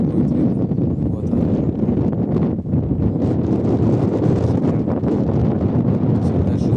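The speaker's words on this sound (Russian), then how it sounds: "Это сильный ветер. Качество звука." Loud wind buffets the microphone without pause, a thick rumbling rush that barely dips for a moment before roaring on.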